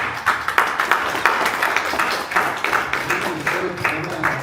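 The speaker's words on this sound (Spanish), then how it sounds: "pido por favor un aplauso para Balam y para Antonio" Audience applause for presenters at a book launch, a burst of scattered hand claps with a clear onset, heard alone at moderate loudness.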